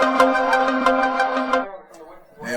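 A mobile phone ringtone plays a bright, repeating melodic pattern of tones, loud and close for about a second and a half before cutting off, followed by a brief breath or murmur.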